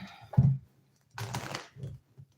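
Tarot cards shuffled by hand, a short papery flutter, then a longer dense riffling burst, then a few soft taps, close and fairly quiet.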